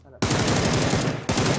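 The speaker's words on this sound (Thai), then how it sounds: "โอ้ยมันยิงโหดจังอ่ะ" Video game gunfire rattles in a rapid automatic burst, loud and close, starting abruptly and running almost continuously, with a short break before another burst.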